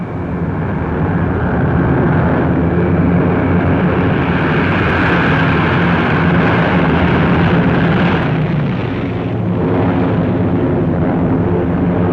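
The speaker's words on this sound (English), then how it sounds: "Again on the morning of July 25th, the planes came." Waves of World War II bomber planes flying overhead during Operation Cobra in Normandy, a loud continuous roaring engine drone that swells and fades slightly, alone without speech.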